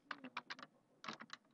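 Notes are typed on a computer keyboard in EEG analysis software. Two quick runs of close, light keystrokes are separated by a brief pause.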